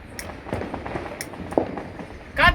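Diwali firecrackers burst outdoors in a few sharp, scattered cracks and pops spread over a couple of seconds, the loudest near the end, set against faint background noise.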